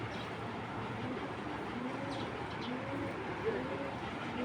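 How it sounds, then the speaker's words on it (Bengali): Low coos of a racing pigeon of Netherlands stock murmur in a steady background hum, soft and somewhat distant, with a faint higher chirp partway through. "এই কবুতরটা কিন্তু নেদারল্যান্ডের কবুতরের বাচ্চা"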